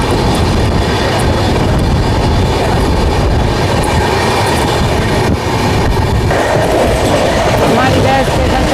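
An express train passes alongside at a crossing at slow speed, filling the air with a loud, continuous rumble and clickety-clack of wheels on rails, heard close up from onboard another train.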